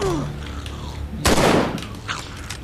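Gunfire rings out in The Walking Dead: Survival Instinct, a loud blast with a rolling tail after a quieter stretch of game sounds, then further faint shots.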